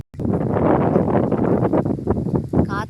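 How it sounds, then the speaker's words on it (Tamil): Steady wind rushing loudly against the microphone on a farm with rice and chili crops, with gusty swells and rustling throughout. "காற்று ஆடுது, அப்படியே பூ கொட்டுது."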